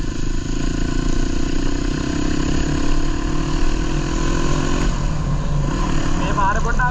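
A motorcycle engine runs steadily and up close, with a rising drone that builds over the first five seconds and then settles, on a rainy, winding road toward Hulangala near Matale, Sri Lanka.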